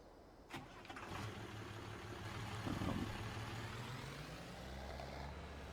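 A tractor engine cranks and catches, then settles into a low, steady idle, heard faintly and at a distance.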